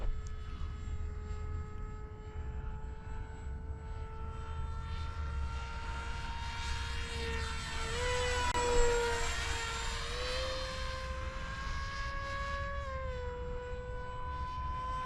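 An FF-35V2 RC plane fitted with a 6-inch propeller flies overhead, its buzzing propeller whine holding steady. The pitch bends as the plane sweeps past mid-flight, then it settles again against faint outdoor ambience.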